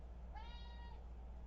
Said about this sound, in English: that's my cat. She approves.